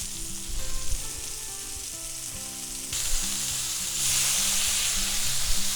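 Smash burger patties sizzle on a hot griddle, a close, bright, continuous frying hiss that swells louder partway through as more fat spits, with no one talking.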